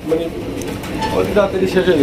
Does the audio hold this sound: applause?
no